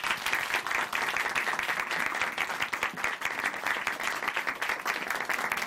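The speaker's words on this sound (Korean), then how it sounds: "박수로 모시겠습니다." An audience at a church gathering gives a steady round of applause, a dense even wash of clapping from many hands that holds without pause, moderately loud and without talk.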